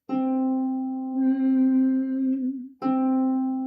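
A single sustained harp note, middle C, rings out, fades slightly, then is plucked again near the end, heard alone without talk.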